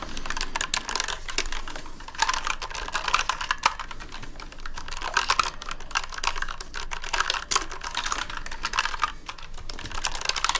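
Steady, rapid typing on an RGB gaming keyboard with chrome-edged keys, crisp close clicks and clacks continuing throughout without any voice.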